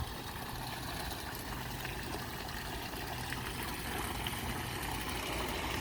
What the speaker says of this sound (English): Water comes from the waterfall.